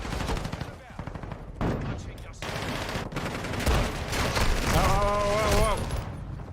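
Rapid pistol fire in Modern Warfare 2 rattles through a dense, continuous firefight, with shots piling up close and loud while a voice talks over the action.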